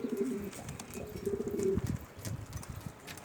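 A young Reyhanlı bozuk pigeon, one of Adana's native breeds, coos in a low repeated pattern close to the microphone. The coos run in steady phrases over some faint background noise.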